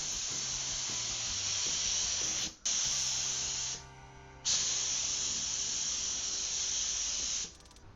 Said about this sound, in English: we can spray on our undercoat and top coat layers